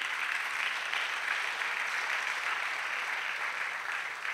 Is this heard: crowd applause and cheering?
yes